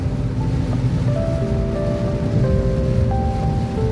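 Rain pours steadily around school closing time, a continuous loud hiss and patter with faint tonal sounds over it.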